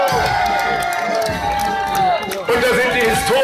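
A crowd lines the street at a Schlappentag festival parade and cheers loudly and steadily, with shouts rising over a continuous roar throughout.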